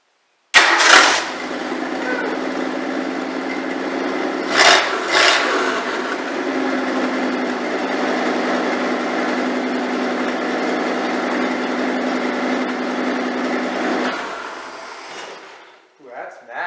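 A sawmill engine cranks and starts, then runs at a steady idle for several seconds before shutting off, loud and close.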